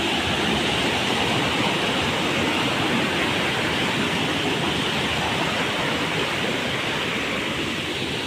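Waterfall in Karura Forest, a steady, loud broadband rush of falling water that continues without a break from start to end, with no voices.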